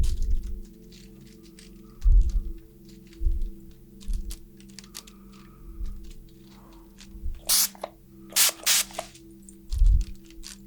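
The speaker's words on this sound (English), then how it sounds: "use this fan to gently waft this spray through the air so we're really" Soft spritzes of spray and gentle fanning of the air in a quiet indoor room, a handful of brief hissing bursts near the end and low soft thumps, close and calm with no talking.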